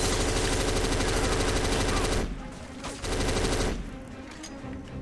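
Grenade explosions go off in the Xbox shooter Black, a dense, loud burst of blasts and gunfire that suddenly drops away, then a second heavy rumble before settling into quieter game ambience.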